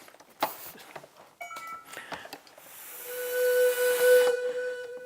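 A pan flute is blown with a clean breath, producing a breathy hiss that settles into a sustained airy tone for about a second, after scattered clicks and short breathy sounds.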